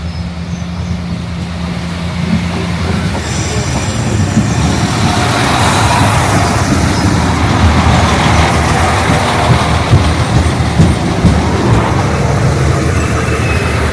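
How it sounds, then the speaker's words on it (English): A train rumbles into Enfield station, a steady low roar with rising clatter and a faint high squeal of brakes, loud and continuous throughout. "Here's the train coming in to Enfield."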